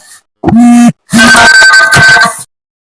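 A phone line cut off abruptly during a call, followed by loud, close electronic disconnect beeps: a short tone, a pause, then a longer buzzing tone before silence.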